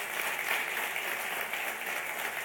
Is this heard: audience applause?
yes